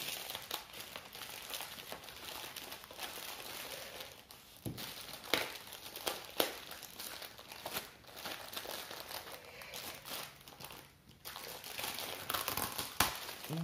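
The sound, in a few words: plastic packet crinkling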